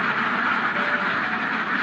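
Farmed ducks quack continuously in a noisy chorus while eating feed, a dense, close flock sound throughout.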